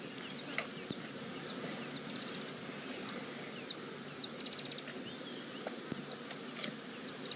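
Swarm of flies buzzing thickly around lions feeding on a fresh buffalo kill in the bush, a dense continuous hum with faint bird calls in the background and no voices.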